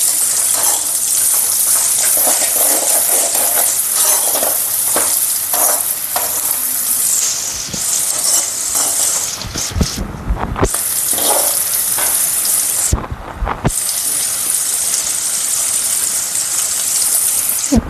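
Garlic fries in hot oil in a pan for an avalakki snack, a constant loud sizzle broken by scraping stirs and a few brief pauses near the middle.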